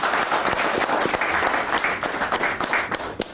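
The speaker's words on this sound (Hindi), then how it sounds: "तो जोरदार तालियों के साथ स्वागत डॉक्टर अमरेंद्र का।" A studio audience at an interview show breaks into loud, dense applause to welcome a guest, steady clapping filling the whole moment.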